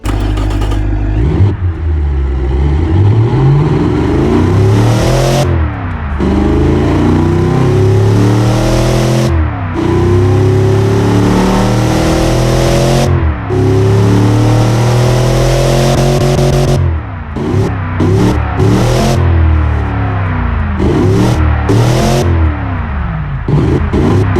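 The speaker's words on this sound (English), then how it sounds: "look at the torque, 528 pound-feet of torque from this massive naturally aspirated V8" A Cadillac 500ci naturally aspirated V8 of nearly 500 horsepower in the Automation car-building game revs hard and loud throughout, its pitch climbing repeatedly and dropping back at each shift in a steady cycle.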